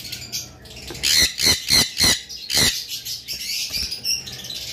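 A parblue violet lovebird, a high-mutation pet bird, gives a series of loud, harsh squawking calls in quick bursts close by, with softer chirps between and after.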